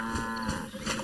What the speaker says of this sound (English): It is a cow.